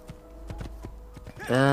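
Horse hooves clip-clop at a steady walking pace in the video game Assassin's Creed II, a run of close, distinct knocks ending in a louder sustained voiced sound.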